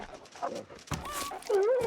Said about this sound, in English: You're kind of barking all the time